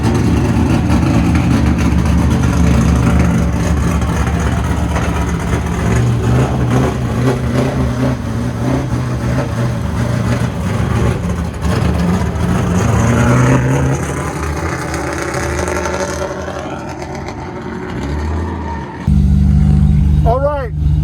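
Car engine at a drifting and roll racing event, a steady running engine droning close by with occasional revs rising and falling, while people talk over it throughout.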